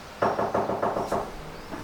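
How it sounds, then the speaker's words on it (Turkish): Five fairly even knocks rap on a door in quick succession, muffled and moderately close, followed by quiet. "Kim çalıyor lan kapıyı?"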